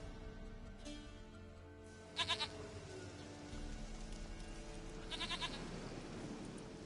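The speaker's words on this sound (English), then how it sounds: "Goat of mine, dearest, sweetest goat." A goat bleats twice in The Witcher 3: Wild Hunt, each a short wavering call with a few seconds between them, over a steady ambient game background of wind or rain.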